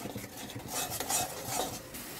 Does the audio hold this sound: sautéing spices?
yes